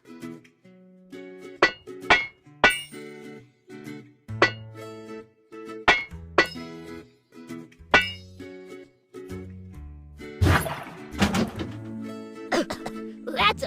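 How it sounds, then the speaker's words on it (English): In a truck repair video game, a hammer breaks locks with a series of metallic clanks and clinks, each followed by tinkling game sound effects. Light, jingly music plays underneath, and a louder burst of clattering near the end. "Use a hammer to break the locks."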